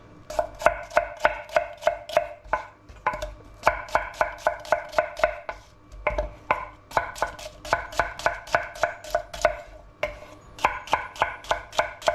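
Onions, shallots and peppers are chopped on a cutting board in quick, steady knife strikes, close and crisp, with brief pauses between runs and no talking.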